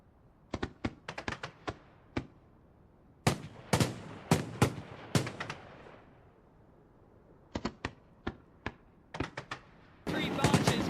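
New Year fireworks over the London wheel, launched from the wheel itself and from three barges in front of it: bursts of sharp bangs arrive in clusters with gaps between them, ending in a dense continuous crackle, loud and close.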